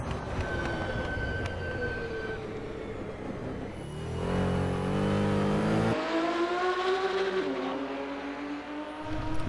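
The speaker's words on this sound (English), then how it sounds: "These cars definitely sound good." Video game racing car engines rev and whine at high pitch, shifting gears with rising and falling tones, steady and fairly loud with no talking.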